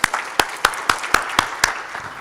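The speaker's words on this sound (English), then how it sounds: "clap for Dr. Vagela as well" An audience at a cardiac society scientific congress claps in a slow, unified rhythm, seven or eight sharp, evenly spaced beats ringing out in the hall, with faint scattered clapping between them.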